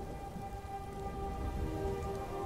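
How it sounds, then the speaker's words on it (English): Steady rain falls in the video game Skyrim, a soft, continuous hiss and patter at low level with faint tonal game ambience underneath and no speech. "Why is it always raining?"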